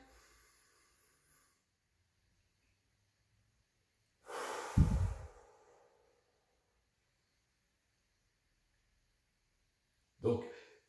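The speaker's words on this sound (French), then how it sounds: "on inspire." Deep breath in during a breathing exercise for building willpower, a single loud close inhalation lasting about a second, then silence before a short second breath sound at the end.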